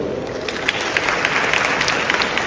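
A hall audience applauds, dense, continuous clapping from many people that stays loud and even from start to finish.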